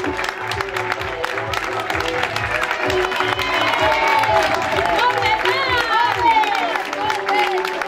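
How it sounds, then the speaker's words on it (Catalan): Spectators clap steadily at a half marathon finish in Garrotxa, greeting an Olot runner, with a voice talking over a PA throughout the applause. "Fort aplaudiment per aquest atleta olotí."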